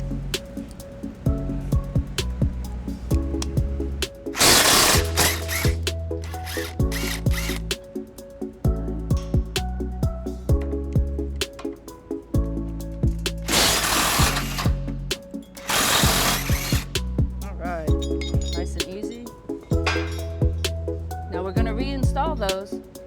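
A bolt is backed out on a 2011 Toyota Tundra during a front-mount hitch installation, with repeated loud bursts of a power tool whirring close by between quieter gaps, and someone talking at times.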